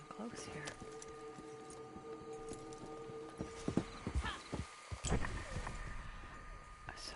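Horse hooves clip-clop in Red Dead Online on PS4, with a clear whinny partway through, close and fairly loud over steady game ambience; someone talks briefly.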